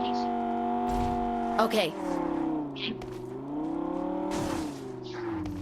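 Vehicles race across open ground in the mobile battle royale game BGMI, their engines droning steadily with a brief tire squeal, all beneath near continuous talk from a player.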